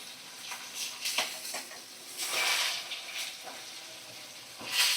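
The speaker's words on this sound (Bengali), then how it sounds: "আর এক সাইডটা ভালো করে ভাজা করে নিচ্ছি" Bhetki (barramundi) fish frying in a pan makes a soft, uneven sizzle with brief bursts of hissing spatter and a few light clicks, fairly faint and without speech.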